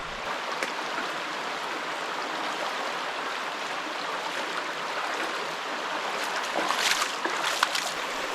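Steady broadband rush of a shallow, cold wilderness stream in Arkansas being waded across in Crocs, with sharper splashes stepping through the water toward the end.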